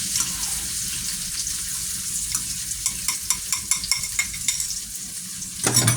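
Minced pork for pad kra pao sizzles steadily in a hot pan, with a series of rhythmic scraping stirs of the spatula partway through and a louder clatter at the end.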